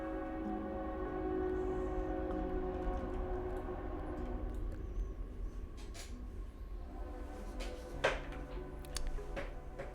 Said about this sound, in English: But if you hear the train, then I change my mind.